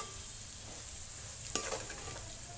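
Homemade masala chilli powder being stirred into curry in a pan, a faint steady sizzle with one sharp scrape of the spoon midway and light stirring after, no talk.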